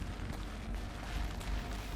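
Horizon Zero Dawn gameplay with muffled explosions booming in a low, rumbling wash. Several soft thuds pulse through two seconds at a moderate level, with no speech.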